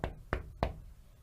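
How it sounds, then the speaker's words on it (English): Three firm knocks on a door in a Little Red Riding Hood pantomime drama, evenly spaced, close and crisp, each with a short decay, heard alone with no talking. "The wolf was knocking on the door."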